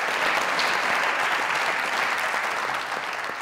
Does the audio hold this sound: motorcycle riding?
no